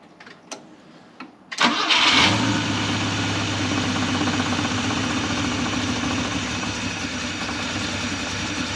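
A 50-year-old Volvo 164E engine, sitting unused for 20 years, cranks with a few brief clicks, then catches and fires into a loud, steady idle that carries on continuously to the end.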